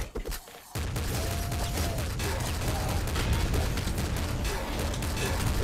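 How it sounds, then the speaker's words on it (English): In the video game Nuclear Throne, cars explode amid a rapid, dense barrage of crackling gunfire and booms, a continuous loud burst of game combat after a short quieter opening. "So cars explode in like the weirdest fucking way."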